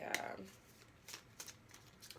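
A tarot deck is shuffled by hand in a few quick riffling bursts followed by soft, irregular card taps and slides, close and quiet.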